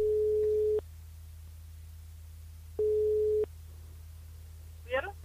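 Two long electronic ring tones on a phone line, each under a second, spaced about two seconds apart, placed while a radio host dials a listener during a live broadcast; a faint click follows near the end.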